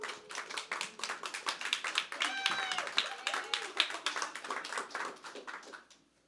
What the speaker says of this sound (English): I get a round of applause for that